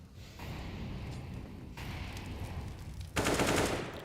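Gunfire from a Counter-Strike pistol round in a PGL RMR Americas match, shots rattling in quick bursts through continuous game noise, with a louder, brighter burst near the end.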